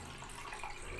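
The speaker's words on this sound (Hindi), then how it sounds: "इसके अंदर हम पानी ऐड कर देंगे" Water pours steadily into a cooking pot in a kitchen, a continuous splashing rush heard close up with no talking.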